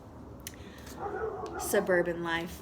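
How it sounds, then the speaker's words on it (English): A dog barks a few times in a suburban setting, short harmonic yelps rising over someone talking close by. "Sorry for the dog barking."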